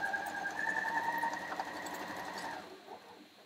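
A computerised Janome sewing machine running a lock stitch: a steady whirring hum with a high motor whine, stitching up and down in place, then slowing and fading out near the end.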